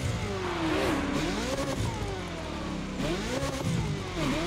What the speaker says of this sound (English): I love Ferrari engines.